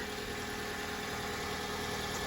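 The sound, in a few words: Hyundai Elantra 2.0-liter Theta 2 engine idling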